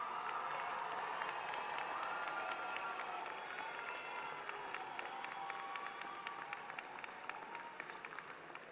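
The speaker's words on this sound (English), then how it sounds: "will the graduates please rise and give a big round of applause in appreciation of those who supported you" Graduates at a fall university commencement ceremony give a long round of applause, a steady crackle of many hands clapping in a large hall, with scattered cheers mixed in.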